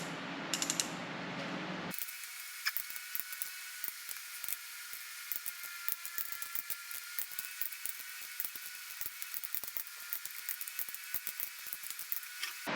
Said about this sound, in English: Now we run it up to 80 for our final pass on the big bolts.